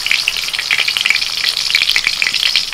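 Paneer pieces frying in hot oil, a bright, steady, close sizzle with dense crackling and popping throughout, alone without any voices.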